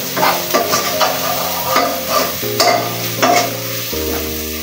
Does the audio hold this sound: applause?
no